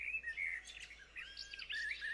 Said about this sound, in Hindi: भोर के पंछी एक लय सुर में चहक रहे थे।